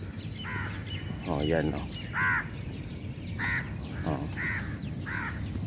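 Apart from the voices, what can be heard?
crows cawing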